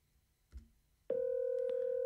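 A Zoiper softphone rings from a SIPp test call placed through Asterisk: after a soft click, a loud, steady electronic ring tone begins abruptly and holds, close and clean.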